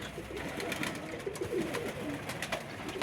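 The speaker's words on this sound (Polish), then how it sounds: "Gołębie do lotu, chodzą, czekają na jedzenie." High-flying pigeons coo softly in low, rolling murmurs, several birds overlapping against a steady outdoor background with a few higher chirps.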